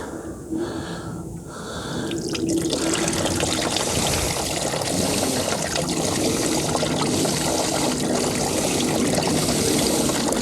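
Fluid pours and splashes steadily from an old British car left unstarted for 25 years into an overflowing drain pan, a continuous close wash of liquid that builds after a few brief breathy sounds at the start.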